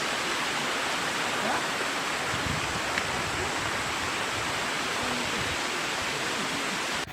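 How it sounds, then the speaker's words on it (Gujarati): Steady roaring rush of a forest waterfall on the trail to Jatashankar in the Girnar forest near Junagadh, a continuous broadband wash of falling water throughout, close and loud with no talk. "ધોધનો તમે અવાજ સંભળાતો હશે."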